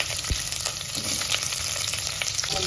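Mustard seeds, cumin and chopped onion frying in ghee with a little butter, a dense steady sizzle heard up close with a faint tap or two, loud and unbroken, no speech.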